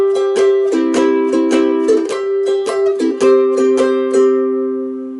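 A ukulele plays the first two bars of the middle line of a twelve-bar blues, with bright repeated strummed chords in a steady rhythm and the final chord left ringing.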